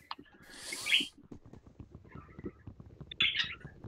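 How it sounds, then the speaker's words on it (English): Pet bird in the video game Minecraft chirping in two short, faint bursts of high tweets, separated by quiet clicking game sounds. "Is Jerry the bird? Yes, Jerry is my bird"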